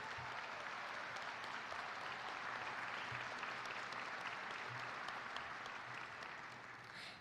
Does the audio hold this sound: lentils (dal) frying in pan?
no